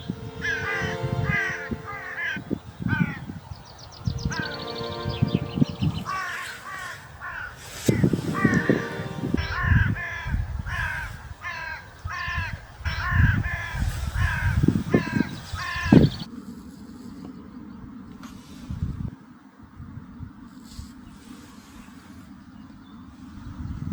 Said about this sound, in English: it's a fucking crow.